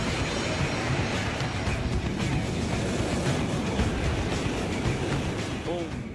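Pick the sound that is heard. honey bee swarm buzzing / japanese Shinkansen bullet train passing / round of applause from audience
japanese Shinkansen bullet train passing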